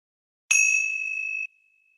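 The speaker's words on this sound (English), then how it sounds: "And on the third ring of the bell," One strike of a meditation bell rings out clearly, a bright metallic ding with a steady high sustain lasting about a second, alone against silence.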